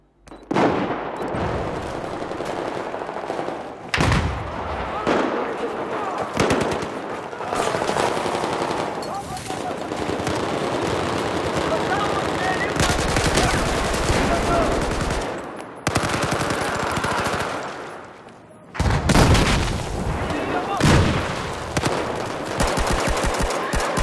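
Loud, close automatic fire in the video game Battlefield 4, with long sustained bursts broken by a few short pauses and some sharper single shots, dense and continuous.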